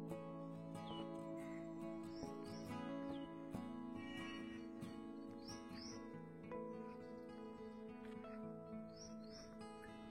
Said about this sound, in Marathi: हे पक्ष्यांचे आवाज बघा तुम्ही, किती मस्त येतात